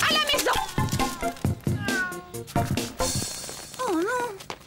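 Several cats meowing close by in a series of short, varied calls with rising and falling pitch, including a longer wavering meow toward the end, without speech.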